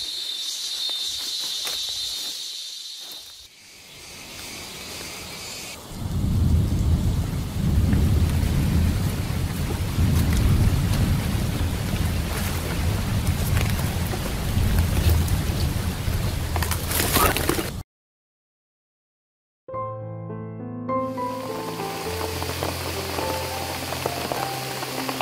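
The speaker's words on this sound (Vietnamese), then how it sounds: "Trận mưa này nó quá to luôn." A heavy rainstorm with thunder in a jungle: dense, roaring downpour with rumbling thunder builds and holds loud, then cuts out and gives way to other sounds near the end.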